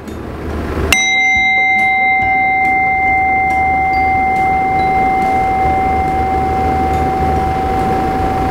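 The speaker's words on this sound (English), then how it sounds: "Hopefully you heard that bell right up to the last second." A bell is struck once and rings on with a long, steady tone, sustained loudly across the rest of the clip over a faint background hiss, used for mindful listening.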